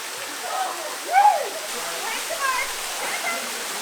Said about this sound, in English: so there's 7 waterfalls on this hike